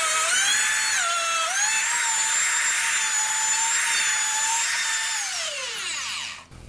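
A router with a bearing-guided bit riding on a template deepens a door hardware mortise, giving a loud, steady high whine that spins down at the end.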